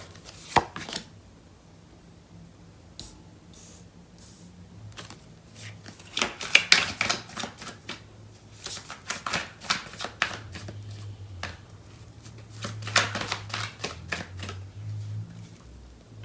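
Tarot cards are shuffled in several bursts of quick, crisp riffling and slapping, close by, with pauses between and faint low hum underneath.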